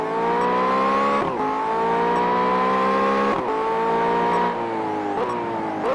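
Race car engine in the Simraceway racing game, loud and close, revving high and dropping sharply at each of several gear shifts, with a steady whine throughout.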